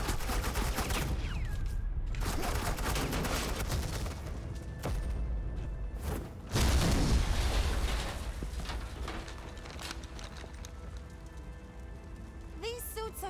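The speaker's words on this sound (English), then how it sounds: "suppressing fire." Agents lay down suppressing gunfire in Batman: The Enemy Within, a dense, continuous rattle of rapid shots that stays loud throughout, with a sharper burst partway through and voices faintly beneath.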